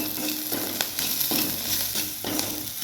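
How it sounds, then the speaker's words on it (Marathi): Chillies are stirred with turmeric and salt in a pan, giving a soft steady sizzle with rhythmic scraping strokes about every half second, fairly quiet and close. "आपण छान मिक्स करून घेऊया मिरची"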